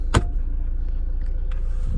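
A 2017 Toyota Land Cruiser Prado GXL idles with a low, steady engine rumble, broken near the start by one sharp click.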